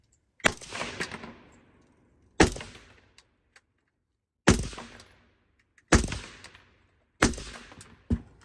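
Five rounds of cheap PMC 855 ammunition fired from a Sig MCX Spear LT rifle: sharp, loud single shots spaced one to two seconds apart, each with a short decaying echo, and no voices.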